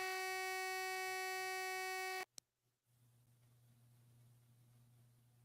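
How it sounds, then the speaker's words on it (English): A loud electronic beep sounds from a computer during a voice call, a steady multi-tone buzz lasting about two seconds before cutting off abruptly into quiet background hum. "it made a weird beep"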